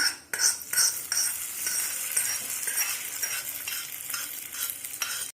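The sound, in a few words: hot tempering poured and stirred into carrot chutney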